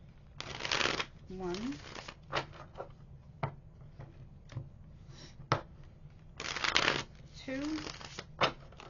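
Tarot cards are shuffled by hand in several short bursts of riffling and rubbing, close and moderately loud, with brief pauses between rounds and a person speaking softly in between.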